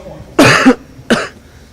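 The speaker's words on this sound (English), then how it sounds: "I was trying to hold my cough in" Two sharp coughs close to the microphone, the first stronger and longer, the second shorter, with quiet in between.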